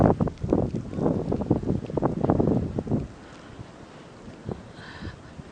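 Blizzard wind gusts roar loudly against the microphone while blown snow hisses, easing into a quieter steady rush after about three seconds.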